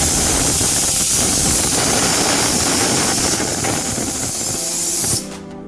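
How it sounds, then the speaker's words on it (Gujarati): Potatoes boiling in a pot on a gas stove, a loud continuous steamy hiss and bubbling roar close by that cuts off sharply near the end, with no talking. "હવે પેલી અત્યારે મેં ગેસ ઉપર બટાકા બાફવા મૂક્યા છે"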